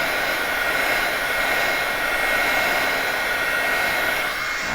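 A heat tool blows steadily to warm stamping foam, a continuous loud airy roar like a hair dryer that holds even for the whole stretch with no pauses.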